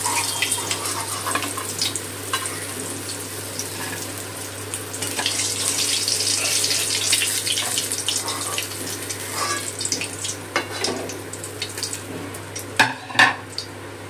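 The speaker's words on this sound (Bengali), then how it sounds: "একই রকম ভাবে বাকি মাছগুলো ভেজে নেব।" Pieces of catla fish fry in hot oil, giving a steady, close sizzling hiss over a low hum, with a few sharp knocks or clinks near the end and no voices.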